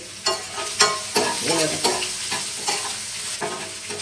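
Onions sizzle steadily in a hot pan with dried red chillies, a spoon scraping and stirring in regular strokes over the constant loud frying hiss.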